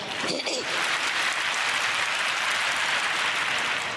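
Audience applause in a hall following Putin's address on nuclear weapons, a steady broad wash of clapping from a crowd at moderate level, with a brief voice-like sound at the start.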